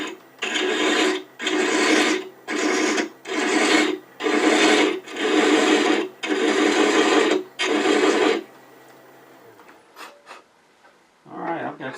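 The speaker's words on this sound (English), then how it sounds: "I'm going to use a 16th inch thin parting tool to cut a little tiny recess in the back" Lathe with a 1/16-inch thin parting tool cutting a small recess behind freshly cut threads: eight loud, even rasping bursts of about a second each, separated by short gaps, then faint clicks and quiet shop noise.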